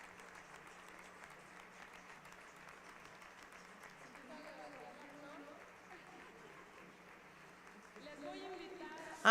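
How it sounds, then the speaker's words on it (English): Conference delegates clap together at a closing ceremony, a faint, steady wash of applause from a distant hall, with some voices murmuring through it and a sudden loud burst at the very end. "let's give ourselves a round of applause for that"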